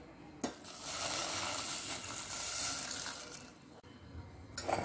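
Water is poured into a pan holding a cup of jaggery to make syrup for kolukattai, a steady splashing pour that starts with a clink, runs for a few seconds and stops, then a brief clatter.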